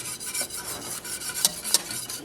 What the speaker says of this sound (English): I've got 3 cups of water boiling, and I've got 1 cup of cornmeal. And we're going to dump this in and whisk it.